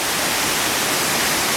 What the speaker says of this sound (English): We've got this rather amazing looking waterfall.